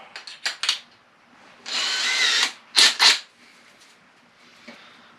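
A power drill spins a reamer while boring out a frog rod handle blank, giving short bursts of whirring, one longer sustained grind in the middle, then a few more quick spins and a faint final pulse.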